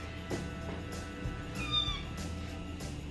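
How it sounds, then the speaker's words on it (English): A kitten lets out a single thin, high meow partway through, over a low steady hum of room noise, with faint knocks nearby. "If you hear the meowing, we have a new addition to the household."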